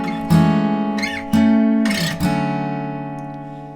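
An acoustic guitar strums open strings a few times, each chord ringing out and slowly decaying, the last one left to sustain.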